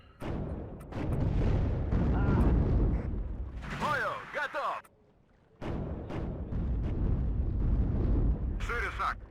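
Heavy, booming artillery fire in the WARNO strategy game rolls on in long sustained barrages, loud and rumbling, broken by a short silence, with someone speaking over parts of it.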